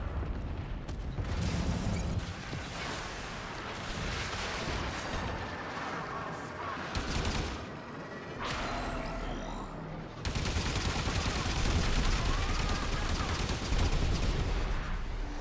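Dense gunfire and heavy explosive blasts from the Warframe video game pound almost without pause, with bursts and booms stacking into a loud, chaotic barrage that swells again near the end.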